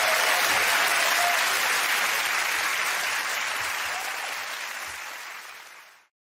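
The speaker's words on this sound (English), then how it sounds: "that round of applause to Ed, Sarah and Andy." Studio audience at a comedy panel show breaks into sustained, dense clapping that stays loud and even before fading out over about six seconds, with no talk.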